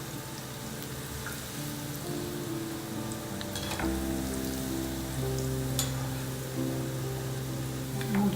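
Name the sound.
muthiya dumplings deep-frying in oil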